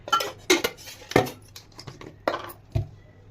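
A kadai being set on a kitchen stove, a handful of sharp metallic clanks and taps, close and spaced irregularly with brief quiet gaps.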